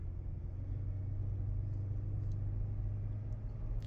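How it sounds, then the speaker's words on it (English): A GMC Envoy drives along just after a brake change, giving a steady low engine and road rumble from inside the cabin, constant and fairly quiet with no talking. "now I drive for 5 minutes without brake usage"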